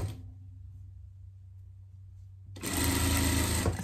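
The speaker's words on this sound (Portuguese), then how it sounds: "Na overlock, que eu vou dar acabamento na overlock, senão ela não para de sair esse pelo aqui" An overlock sewing machine finishes a fabric edge on a pet jacket, starting after a quiet pause with a loud, fast, continuous whirring and clatter close by.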